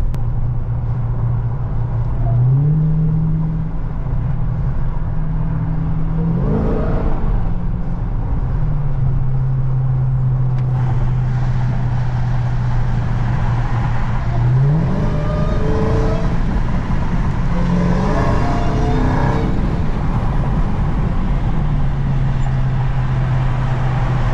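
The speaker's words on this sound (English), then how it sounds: "Changing lanes and giving a little acceleration." Dodge Charger Hellcat in track mode on all-season performance tires accelerating and changing lanes, its engine note rising and shifting through gears, loud and close over steady road noise.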